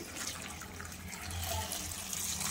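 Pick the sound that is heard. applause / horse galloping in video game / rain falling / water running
water running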